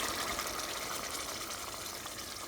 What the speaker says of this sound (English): It's like 4 tablespoons of milk, 4 tablespoons of water, and then some strands of saffron going into the curry.